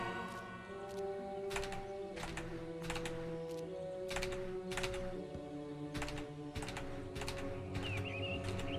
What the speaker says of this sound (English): You can kind of hear my keyboard clacks.